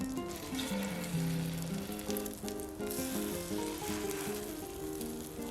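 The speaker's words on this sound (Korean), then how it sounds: "약한 불에서 붙여주세요." Egg-coated jeon pan-fries on low heat for a Chuseok holiday platter, giving a steady, soft sizzle with fine crackle throughout. Gentle background music plays underneath, and no one speaks.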